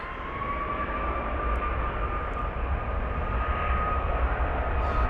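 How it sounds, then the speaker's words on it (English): A Qatar Airways Airbus A380 taxiing towards runway 27 right at London Heathrow gives off a continuous broad jet-engine roar with a steady whine, loud and unbroken across the whole stretch, with no voices. "I can give you some info on the Qatar 380, which is taxiing towards 27 right"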